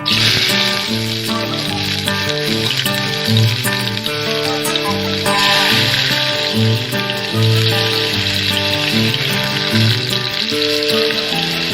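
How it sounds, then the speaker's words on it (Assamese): Chopped onion fries in a little hot oil in a kadai, a loud, continuous crackling sizzle heard up close, with tuneful music running underneath and no talk. "পিঁয়াজখিনি ভালদৰে ভাজি ল'ম।"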